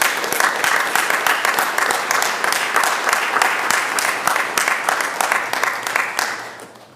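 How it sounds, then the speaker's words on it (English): A room applauds during a transit board of directors meeting, brisk close clapping from many hands holding steady, then tapering off at the end. "join me in just giving them a round of applause"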